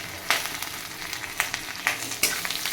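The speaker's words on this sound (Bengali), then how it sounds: "ভালো করে ভেজে নেব" Potatoes seasoned with salt and turmeric fry in a pan, a soft sizzle broken by several sharp scraping stirs, close and unaccompanied by talk.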